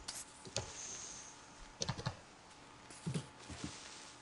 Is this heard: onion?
no